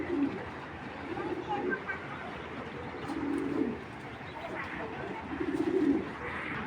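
Racer pigeons coo in a low, repeated rhythm, several soft throaty calls spaced a couple of seconds apart over a quiet background, with a voice talking nearby.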